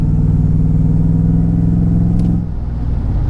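A supercharged Mercedes-Benz E55 AMG W210 engine with a Kleemann supercharger drones loudly at full throttle with a steady low rumble, then stumbles and dips briefly with a misfire before continuing to labor.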